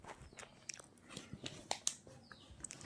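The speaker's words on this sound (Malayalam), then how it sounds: "കടിച്ചിട്ട് തീർക്കന്നെ" Someone bites into and chews food at close range, a scattered series of soft crunches and wet mouth sounds with small pauses between bites.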